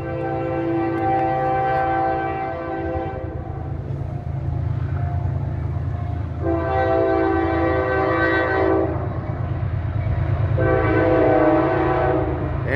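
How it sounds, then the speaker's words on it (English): A CSX autorack freight train led by two engines passes at a crossing in Kingston, NY, with a loud rumbling roll beneath three long, powerful horn blasts. "Two CSX engines, and it's an Autorack train."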